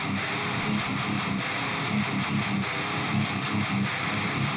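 Heavily distorted Swedish death metal guitar tone through an Audiority Heavy Pedal with a VS8100 Solidus amp, chugging palm-muted riffs played continuously, dense and loud, with no voices.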